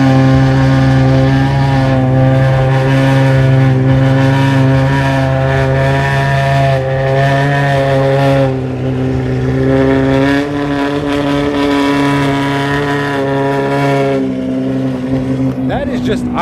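A straight-piped BMW M4 F82 idles in a loud, deep, steady exhaust drone with a rumbling low throb throughout, close up, and people can be heard speaking over it.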